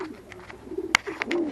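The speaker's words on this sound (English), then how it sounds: "And there we have some of the birds in the aviary." Pigeons cooing inside an aviary, with several short, soft coos and a few sharp chirps and flutters in quick succession, close by and fairly quiet.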